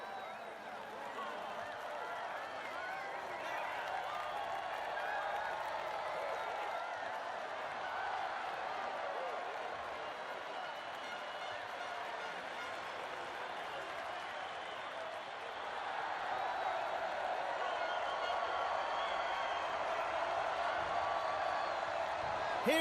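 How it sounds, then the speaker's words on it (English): A steady wash of applause and cheering from team members and fans after a motorcycle grand prix race at Sepang, continuous and fairly distant with a crowd murmur throughout. "Here are the stars of the day enjoying a round of applause from the team and fans"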